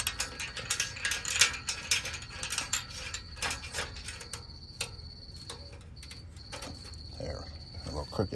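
A ratchet works bolts on a gas tank skid plate for a third-generation double cab long bed truck. Rapid clicking comes in close bursts, then a brief pause, then fainter clicking.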